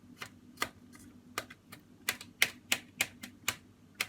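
Onions are chopped with a knife on a board in a string of quick, sharp taps, irregular at first and then coming faster and more evenly, close up and with no talking.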